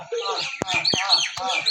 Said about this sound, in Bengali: ও পাখির কিচির মিচির অসাধারণ লাগছে